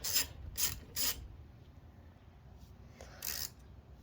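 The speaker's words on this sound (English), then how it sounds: "so we're just going to get our socket in the right direction, and we're going to loosen these." A socket ratchet loosens the ignition coil bolts on a Bolens 450E lawnmower, giving several short bursts of rapid clicking with quiet pauses between them.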